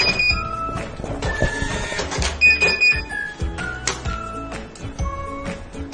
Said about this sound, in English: Buzzing after paper cut.